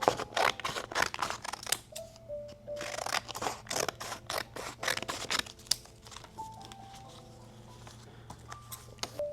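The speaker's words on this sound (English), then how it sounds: "I'm cutting out these squares." Scissors snipping through paper to cut out small squares, a close series of crisp, quick cuts with light paper rustling between them, fairly quiet, and no talking.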